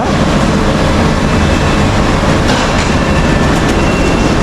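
A train rumbles steadily along the tracks, a loud continuous roar with rattling and faint clicking of wheels over rails.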